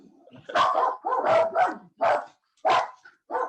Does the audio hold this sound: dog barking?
yes